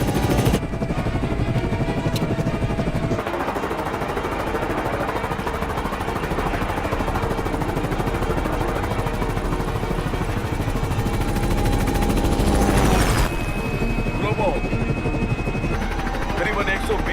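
Heavy rotor roar of a helicopter-like aircraft taking off and flying, a loud, steady, close drone lasting throughout with occasional rattling bursts, while people talk over it in Hindi-dubbed dialogue.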